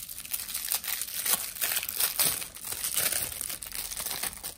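Opening the wrapped pack of a 2019-20 Upper Deck hockey trading card rookie box set, a continuous close crinkling and crumpling of plastic wrap with some tearing.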